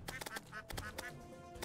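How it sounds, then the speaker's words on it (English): Slime duck quacking in the Terraria video game, several quick quacks in a row over a busy game soundtrack, moderately loud and close. "About to get quacking slime."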